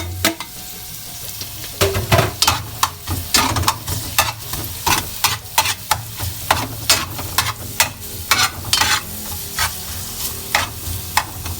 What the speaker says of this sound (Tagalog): Antayin po natin maging golden brown yung bawang.